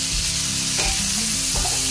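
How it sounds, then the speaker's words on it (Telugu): Okra with coarsely crushed garlic fries uncovered in a pan over low heat, giving a steady close sizzle broken by scraping stirs of a spatula, with no voices. "ఇది సిమ్లోనే ఫ్రై అయిపోవాలి."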